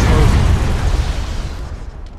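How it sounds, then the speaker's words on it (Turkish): A bomb goes off in a video game as one loud, close blast that hits hard at once, then rumbles and slowly fades over about two seconds. "Nasıl bomba attı?"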